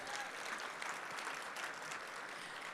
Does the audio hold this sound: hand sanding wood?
no